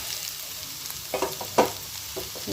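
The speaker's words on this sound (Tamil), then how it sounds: "இப்போ வெங்காயத்தோடு சரி கருவேப்பிலை நல்லா வதக்கிக்கலாம் இப்போ நல்லா வதங்கிட்டுருக்கு" Onions and curry leaves sautéing in a pan for semiya kichadi, giving a soft background sizzle broken by several sharp scraping stirs of a spatula, close by.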